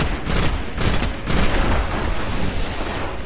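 Shotgun blasts crack out in a Destiny Crucible match, a few loud booming shots in quick succession early on, followed by rumbling gunfire and action noise that stays close and heavy.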